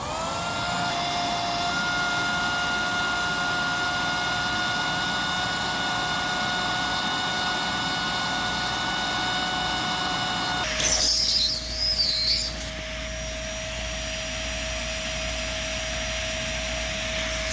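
Kenmore Elite 700 series vacuum cleaner running with airflow through the wand, a steady loud whine and rush that holds throughout, with a brief shift in pitch near the end.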